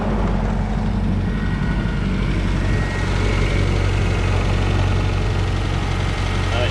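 An MGB's 1.8-litre four-cylinder engine idles steadily with the bonnet up, a close, even low rumble with a faint mechanical tick running unchanged throughout.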